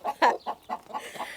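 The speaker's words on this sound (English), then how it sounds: "just generally getting attacked by broody hens." Several broody hens cluck in short, irregular bursts, about six calls spread across a brief moment, fairly close and moderately loud.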